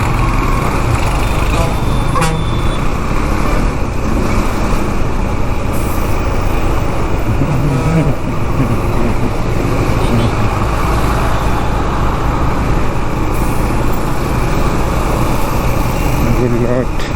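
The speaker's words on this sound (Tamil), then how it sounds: "அதனால் ஒரே டிராஃபிக் ஆகிடுச்சு." Steady road traffic noise in a congested jam, heard from a KTM Duke 390 motorcycle, a loud continuous wash of engines and wind with no clear breaks.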